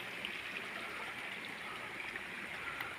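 Spring water flows steadily at a village washing and bathing place, a soft continuous rushing trickle heard alone and fairly faint.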